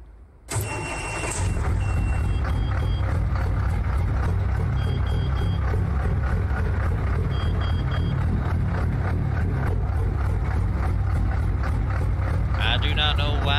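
A Peterbilt heavy-haul truck's Cummins N14 diesel engine cranks and catches, then settles into a steady, throbbing lope idle with a deep rhythmic rumble, loud and close, with a few faint beeps.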